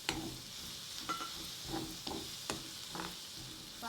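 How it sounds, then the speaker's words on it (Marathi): Onion frying in a pan for soya palak, a soft steady sizzle punctuated by regular scraping stirs and light clicks of a spatula, fairly quiet and close with no talking. "कांदा भाजून घ्यायचा चांगला"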